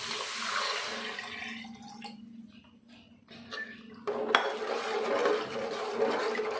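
Salted water pours and splashes into a pot, breaks off briefly, then flows again in a continuous close rushing hiss.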